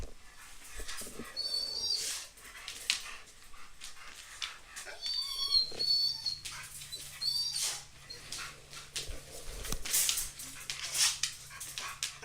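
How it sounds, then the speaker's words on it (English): A dog barks and whimpers indoors, short yelping calls scattered across the stretch at moderate distance, mixed with faint room noise and a low hum. "What the heck are you barking at,"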